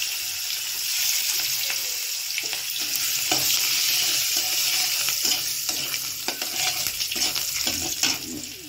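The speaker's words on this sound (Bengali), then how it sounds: "তো চলো এবার দিয়ে দিচ্ছি রসুন" Garlic fries in hot oil in a home kitchen pan with a dense, continuous sizzle, close and steady, broken by occasional stirring scrapes and no talk.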